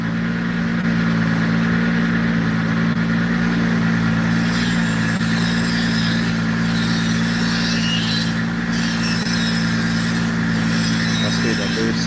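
A turbocharged car engine on a dyno holds a loud, steady droning roar with a constant low hum throughout and a brighter, rising edge from the midpoint on.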